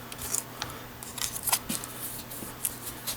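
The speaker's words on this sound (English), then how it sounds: "I'm going to put this tape back." Adhesive tape being handled and pressed back onto a DJI Inspire 1 TB47/TB48 drone battery, a series of light crinkling, peeling clicks and rustles at close range, irregular and fairly quiet, with no talking.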